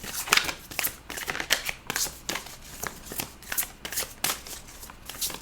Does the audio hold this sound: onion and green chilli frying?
no